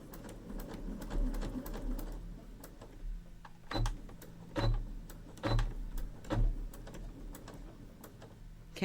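A sewing machine back stitching the end of a seam on Halloween bunting fabric, a short run of stitching followed by several distinct mechanical clunks as it reverses, close and fairly quiet with no talking.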